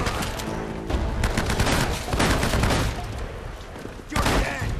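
Shotgun blasts and other gunfire ring out in the video game Uncharted: Drake's Fortune. The shots come in loud, rapid, overlapping bursts with only short gaps, and a heavier cluster of shots lands near the end.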